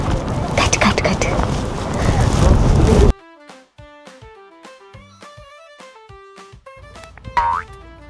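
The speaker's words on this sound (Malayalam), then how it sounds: "കാറ്റ് കാറ്റ് കാറ്റ്." Strong wind with falling snow in the Scottish Highlands roars and buffets loudly for about three seconds, then cuts off abruptly to quiet, bright plucked tones and a springy boing.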